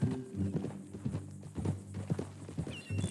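Horse hooves clip-clop at a steady walking pace in Red Dead Redemption 2, fairly close and clear, with a brief whinny-like tone near the end and no talking.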